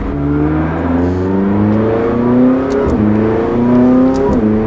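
A 2019 McLaren 600LT engine accelerates hard and loud, its pitch climbing in rising sweeps, broken twice by a quick upshift that drops the revs before the next climb.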